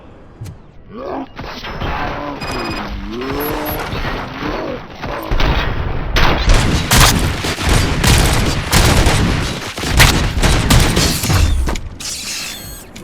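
Heavy gunfire in RoboCop Rogue City, a dense run of loud, rapid shots and clanking impacts that builds after a brief voice at the start and carries on steadily to the end.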